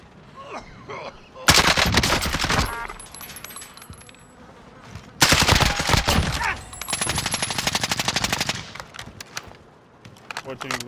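Bursts of automatic gunfire in Call of Duty Warzone, played on PS5, come in two loud sustained volleys with rapid rattling shots, mixed with game sounds, while players talk over the action.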